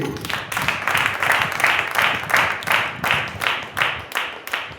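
A church congregation claps together in a steady rhythm, about three claps per second in unison, loud and close, with no other voices.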